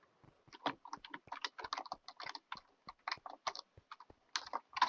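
Rapid typing on a computer keyboard, a dense run of close, crisp key clicks in uneven bursts that continues for several seconds with no voices.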